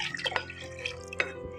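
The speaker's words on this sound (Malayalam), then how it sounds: "ഞാനൊരു 1 കപ്പ് വെള്ളം ഒഴിച്ച് കൊടുക്കുകയാണ്." A cup of water poured into rasam cooking in a pot, a short soft splashing trickle with a few drips, quiet and close.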